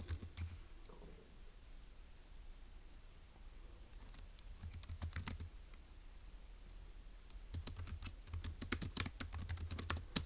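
Quiet computer keyboard typing, a few scattered keystrokes at first, then bursts of rapid clicking toward the end, close and fairly soft.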